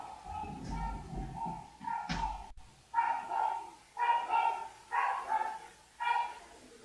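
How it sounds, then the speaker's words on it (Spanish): A small dog barks excitedly indoors in a series of quick, sharp yips, first overlapping some background shuffling and then coming as four or five distinct bursts, close and moderately loud. "mi perrita estaba muy eufórica"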